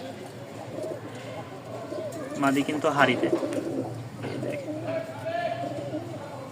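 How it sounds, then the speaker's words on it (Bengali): Pigeons cooing in a loft, low throaty coos rising midway and continuing softly beneath someone speaking close by. "দেখছেন ডাকটা বললাম না কবুতরের ডাক আছে"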